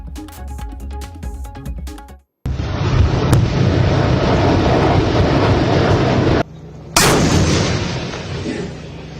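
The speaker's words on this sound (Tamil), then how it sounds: "பீரங்கிகள், டாங்கிகள் மூலம் போர் பயிற்சியில் ஈடுபட்ட ராணுவ வீரர்கள்" Artillery guns and tanks firing during an annual army exercise, a sustained roaring rumble of heavy fire with sharp blasts breaking through, cut between short segments, with no talking.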